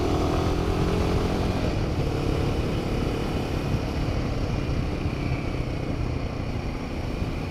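A 2007 Royal Enfield Bullet 500 single-cylinder motorcycle engine runs steadily while riding, a loud continuous low thrum with wind noise, close and unbroken throughout.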